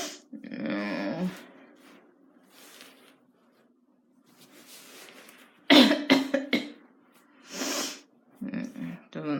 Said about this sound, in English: Sounds like you're coughing severely in here.